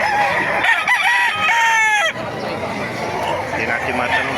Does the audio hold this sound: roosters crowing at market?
yes